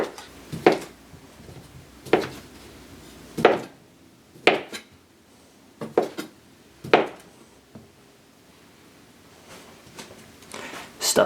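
A knife chops kielbasa into roughly two-inch chunks on a board, sharp distinct knocks landing about once a second with short quiet gaps between them, close and clear, with no talking.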